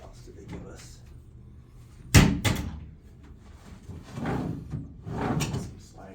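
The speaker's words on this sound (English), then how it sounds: "Some sliding drawers." Sliding drawers in a suite at the Hilton Lake Las Vegas Resort and Spa are pulled open and pushed shut, giving a rumbling slide and a solid thump, then softer sliding rustles over room noise.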